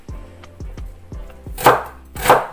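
A knife chopping a red onion on a board, a run of about six crisp close thuds in quick succession followed by two louder, scraping cuts, alone with no talk.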